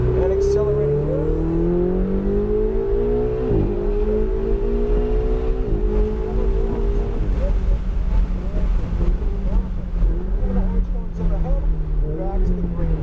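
A Ferrari 488 GTB revs and accelerates through a cone course, its engine note climbing in repeated rising sweeps with gear changes, loud and continuous under buffeting wind noise.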